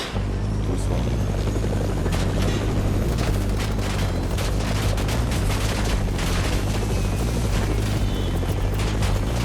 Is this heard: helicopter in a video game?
yes